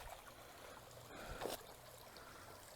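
Water trickling along a small outdoor stream, a faint steady dribble with a brief slightly louder splash partway through, heard alone without talk.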